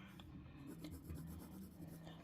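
A watercolour pencil rubs and scratches across already wet paper in a short, soft, close passage of continuous strokes, faint throughout.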